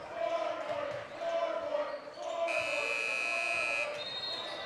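A game-ending buzzer at a high school boys' or girls' basketball game, Cherry Creek versus Cherokee Trail, sounds as a sustained bright electronic tone of about a second and a half over steady gym crowd noise and shoe squeaks.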